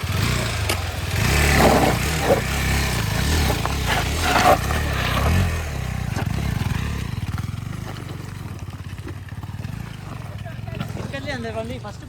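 A 390cc motorcycle being ridden, its engine rumbling and revving unevenly, fairly close, with people talking over it.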